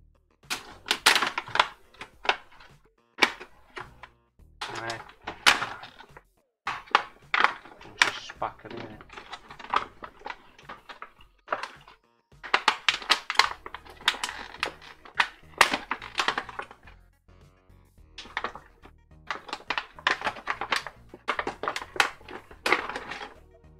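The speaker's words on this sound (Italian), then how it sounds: "Allora, apriamo il pacchetto per la prima volta." Packaging for a Madisef 040207 precision work support is opened at close range, with crinkly rustling, tearing and scattered clicks and thunks arriving in uneven bursts separated by brief pauses.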